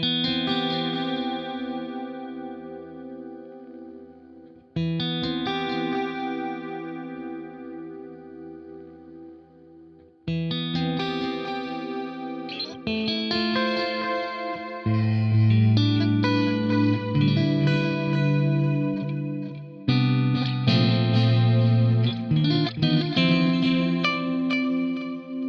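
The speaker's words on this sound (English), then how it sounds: "It's almost like we've got chorus and delay and reverb happening" Electric guitar chords and single notes run through a Fractal AX8 delay with modulation and diffusion, swirling into chorus-like shimmer and reverb-washed repeats, loud and sustained across several strummed phrases with long decaying tails.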